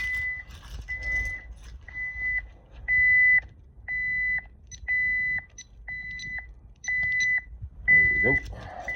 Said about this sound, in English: Alarm is getting ready to go off.